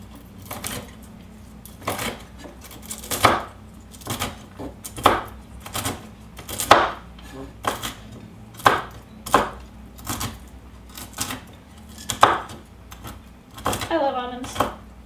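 Knife chopping almonds roughly on a board for a red cabbage dish, a series of sharp, fairly close thuds in an irregular rhythm, heard alone.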